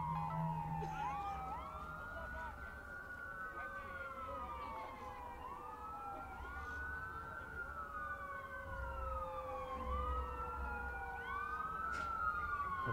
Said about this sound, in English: a lot of ambulances around here, and we're nowhere near a hospital